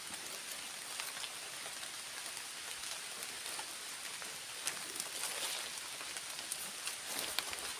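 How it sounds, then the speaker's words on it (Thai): Steady rain falls outdoors, a dense, even hiss of drops on surfaces with occasional louder patters, continuous and without any talking. "ฝนตกแล้ว"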